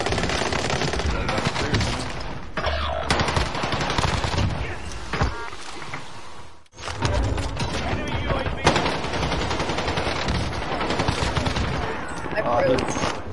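Sustained automatic gunfire in a video game firefight aimed at an enemy on a rooftop, loud and continuous with dense rapid bursts and a brief pause midway, over game noise and voices.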